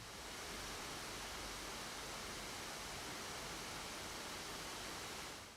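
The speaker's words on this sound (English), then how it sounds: "This is the noise of stress test with air cooling only." A Machenike S17 laptop fan runs under a stress test on air cooling alone, a steady broadband whoosh like rushing air, even and unbroken, quiet overall with no voices.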